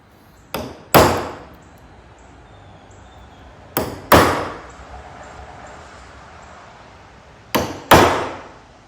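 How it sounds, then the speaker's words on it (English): A hammer drives a metal punch to make bolt holes in a barn door build: three evenly spaced pairs of sharp strikes, each a light tap followed by a heavier ringing blow, close and loud against a quiet background. "So I'm using a punch to get my holes."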